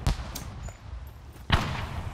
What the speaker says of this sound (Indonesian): Oh iya tuh. Petasan tetangga.